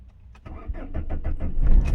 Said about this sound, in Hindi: ये हमारी गाड़ी स्टार्ट होगी और मैंने छोड़ दिया स्टार्ट होते ही